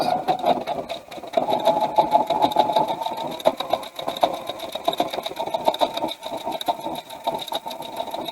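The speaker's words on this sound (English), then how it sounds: "I'm going to start stitching, and you'll see exactly what this does." A sewing machine stitches fabric with a fast, even mechanical whir and rattle that runs almost without a break, close and fairly quiet.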